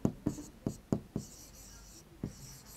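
Writing strokes on a board or paper in a maths lesson, several short scratchy marks in quick bursts, then a pause and a few more, close and moderately quiet, with no speech.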